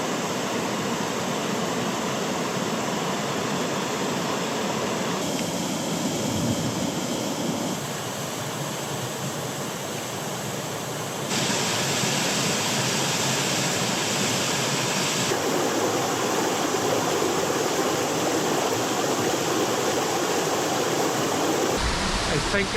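A waterfall pours into a river gorge on the Shannagh River in the Mournes, a dense, continuous roar of rushing water that stays close and loud throughout.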